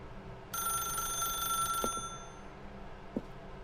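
A telephone rings in The Stanley Parable, a bright electronic trill that starts abruptly and sounds clearly for about two seconds, followed by a couple of soft clicks in an otherwise quiet room.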